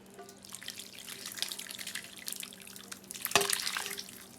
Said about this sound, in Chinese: 浇点原汤。